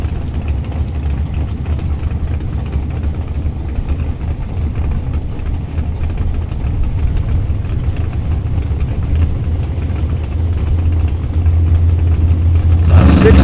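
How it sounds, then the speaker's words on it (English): An 825 cubic inch big block Ford-powered Mustang rumbles heavily at a drag strip, its deep engine note building toward a louder roar at the end. An announcer talks over it. "The Husker Power Products sponsored 825 cubic inch big block Ford powered Mustang."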